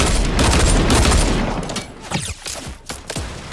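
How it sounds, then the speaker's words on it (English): Gunfire in the video game Fortnite Battle Royale, a loud, dense burst of rapid shots followed by scattered single shots and thuds, close and punchy, with no speech over it. "Shooting at her base."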